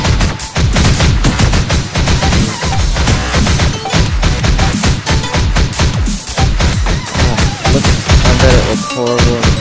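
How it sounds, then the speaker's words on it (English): A rocket blast erupts in the video game Critical Annihilation amid nonstop loud gunfire and crashing explosions, layered over dense game music for the whole stretch. "Rocket, boom."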